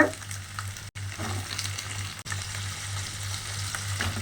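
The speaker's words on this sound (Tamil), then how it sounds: "எண்ணெய் நல்லா காஞ்சதுமே வெங்காயத்தை சேர்த்துக்கலாம்" Small onions fry in hot oil for a mutton curry, giving a steady, close crackling sizzle with brief dropouts and no voices.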